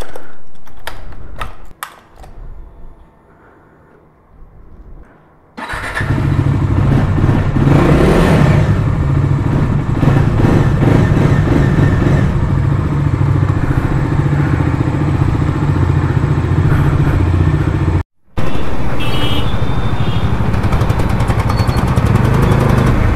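Bajaj Dominar 400 motorcycle riding on a road, a steady loud engine and wind roar that starts after a few quiet seconds, continues with a brief dropout, with no talking.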